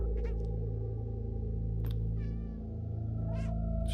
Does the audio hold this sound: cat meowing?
yes